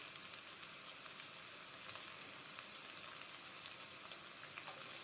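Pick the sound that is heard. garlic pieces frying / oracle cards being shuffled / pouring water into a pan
garlic pieces frying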